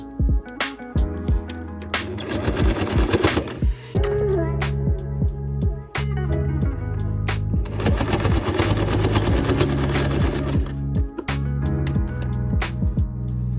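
A sewing machine stitches patchwork fabric pieces together in two long, loud, steady runs with a brief stop between them, and small clicks sound in the pauses.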